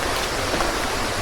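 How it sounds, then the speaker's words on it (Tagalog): Steady rain pours during a motorcycle ride across a bridge in Real, Quezon province, a dense, unbroken hiss of falling water that fills the whole moment without a pause. "Ayan, huwag nang lalakas ang ulan."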